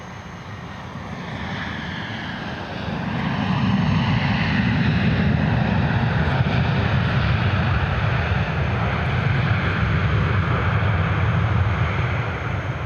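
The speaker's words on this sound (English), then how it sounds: "FedEx MD-11." A FedEx MD-11 jet airliner arriving at Minneapolis–St. Paul airport, a steady broadband engine roar that swells after a few seconds and holds loud and continuous, with no talk.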